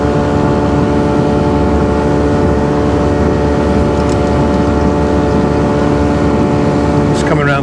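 Steady loud engine drone and hull rumble from a new Fletcher motor boat cruising smoothly at 24 knots, continuous throughout, with faint wind and water noise.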